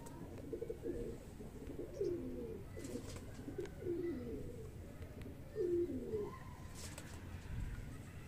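Highflyer breeder pigeons coo in soft repeated rounds, a few low throaty phrases spaced every second or two, close by with faint background noise.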